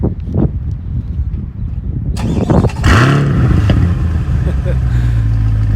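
A 2020 Chevrolet Corvette C8 fires up after some nearby clatter and footsteps, its exhaust settling into a loud, deep, steady idle rumble close by.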